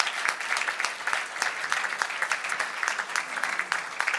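An audience applauds the speakers at the close of a French-language panel session, with crisp individual claps standing out from a lively, continuous patter of many hands.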